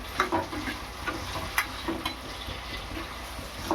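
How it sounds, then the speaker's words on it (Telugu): Fresh black-eyed peas frying in oil, a steady crackling sizzle with spatula clicks and stirring scrapes every half second or so, close and fairly loud. "ఇవి కాసేపు మక్కనిద్దాం నూనెలో అలసందలు"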